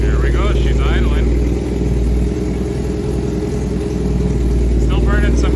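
A 1987 Honda CBR600F1 motorcycle engine idles steadily and loudly up close, running with no muffler and still burning carburetor cleaner, a continuous low rumble throughout with no speech over it.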